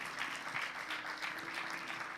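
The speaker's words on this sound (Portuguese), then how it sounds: "E dê um aplauso, festeje isso." Church congregation applauding during a Portuguese-language sermon, a steady wash of clapping that holds fairly even throughout at moderate, slightly distant level.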